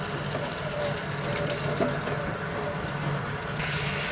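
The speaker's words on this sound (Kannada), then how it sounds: "ಇದ್ರ ಜೊತೆ ನಾನು 1 ಗ್ಲಾಸ್ ಅಕ್ಕಿಗೆ 2 ಗ್ಲಾಸ್ ನೀರು ಸೇರಿಸ್ಕೊತೀನಿ" Water pours steadily into a pot of vangi bath rice in a home kitchen, a continuous close, even splashing stream that holds for several seconds.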